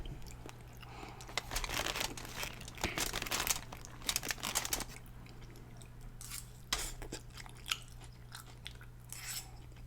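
Someone eats spicy salmon sushi in bursts of close, wet chewing and crunchy, crinkly bites, with quieter pauses between mouthfuls over a faint steady hum, and no talking.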